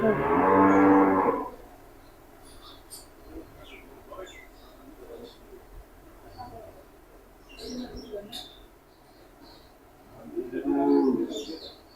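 Cattle at a dairy farm where cows are sold let out two loud, close moos, one at the start and one at the end, with birds chirping and faint voices in the quieter stretch between.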